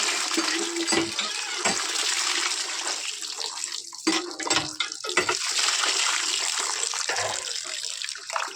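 Running water splashes over raw chicken meat being washed by hand, a loud, close, uneven gush broken by short gaps and sloshing bursts, with no one speaking.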